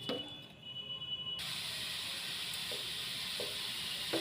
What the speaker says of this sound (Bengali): আস্তে আস্তে ভেজে নেবেন। আমি আরও একটু ঘি দেব।